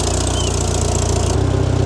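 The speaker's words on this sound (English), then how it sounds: "They hear the tractor running, and they're ready to eat." A farm tractor engine runs steadily nearby while loading hay bales, a loud continuous mechanical drone with a low throbbing pulse and no talking.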